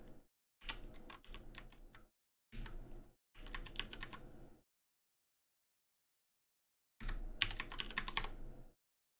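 Computer keyboard typing in bursts of rapid clicky keystrokes, close and crisp, with a silent gap before a final flurry; no talking.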